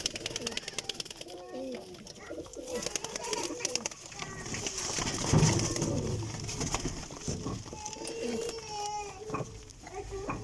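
Pigeons, including Sialkoti birds, coo in low, rolling calls under a busy backdrop of voices and outdoor noise.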